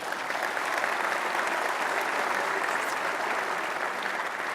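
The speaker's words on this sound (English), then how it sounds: "round of applause to the senators" Attendees at the closing session of the 2017 Reagan National Defense Forum applaud the senators, a full, sustained round of clapping from a large room crowd.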